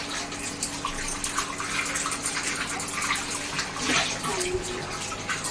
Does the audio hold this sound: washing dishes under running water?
yes